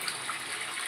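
Tap water pushed by a motor pump rushes steadily into containers for a brief, even moment, moderately faint with no voices.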